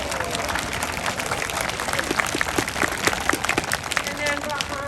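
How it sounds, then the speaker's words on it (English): Audience at a community vigil for Stop Asian Hate clapping, a steady patter of hand claps from a crowd beneath a loud voice speaking over it throughout. "Give her a hand"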